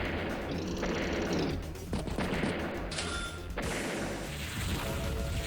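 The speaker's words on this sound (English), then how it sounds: "Kindle does go deploy a missile." Missile strike in the Advance Wars video game: a dense, noisy burst of synthetic crashes and explosive bangs with whooshing effects, loud and continuous over about five seconds.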